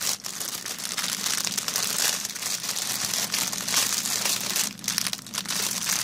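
Plastic parcel bag from an AliExpress manicure order being crinkled open, a continuous close, loud crackling and rustling throughout.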